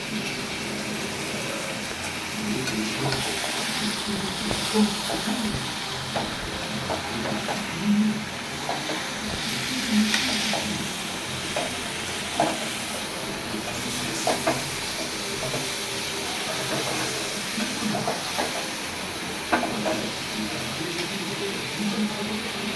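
Homemade chicken curry with green chillies cooks in a pan, giving a steady close sizzle and hiss with occasional stirring scrapes and soft bubbling throughout.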